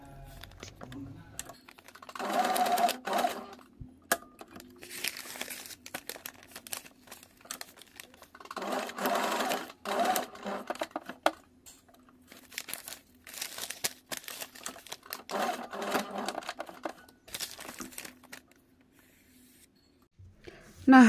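Sewing machine running in bursts along a brocade edge of a kebaya neckline, fitted with a semi-embroidery presser foot; several stitching runs of a few seconds each, separated by pauses with a low steady hum underneath.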